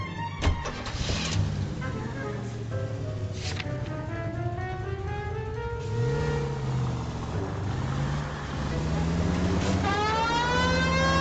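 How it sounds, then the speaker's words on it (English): An engine revs and a police car siren wails in rising and falling sweeps, in the video game L.A. Noire, steady and fairly loud throughout, with no talking. "put the sirens on for this one"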